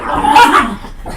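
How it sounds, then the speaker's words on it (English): A dog gives a single loud, close whining bark-yelp that trails off quickly, heard alone without talk. "the dogs are even getting wound up"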